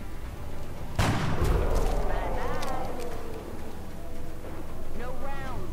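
Shots fired in the video game XCOM: Enemy Unknown, one loud booming blast at the start followed by a rumbling tail and game effects, with speech faintly present.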